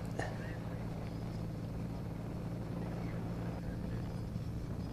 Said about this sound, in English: Helicopter just following him towards the jump, avoiding the wind turbines.